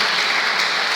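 A Christmas service congregation at a Pentecostal church in Pontianak applauds, a dense, steady wash of clapping hands filling the whole moment with no pause.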